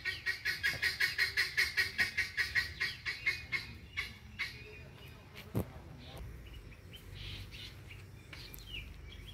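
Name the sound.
guinea fowl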